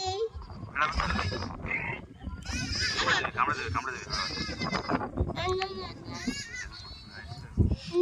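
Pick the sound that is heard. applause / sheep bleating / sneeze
sheep bleating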